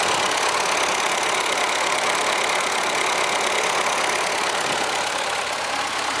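A 1952 Ford 8N tractor with a leaking head gasket idles close by, its engine giving a steady, dense rumble with a slight knocking texture and no voices over it.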